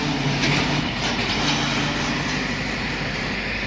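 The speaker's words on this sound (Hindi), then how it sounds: "ये मेरी फेवरेट ट्रेन है। एंड ब्रेक सप्लाई हो गई है।" Train at a railway station rumbling steadily and close by, with a continuous low hum of the wagons and faint rattle throughout, no talking.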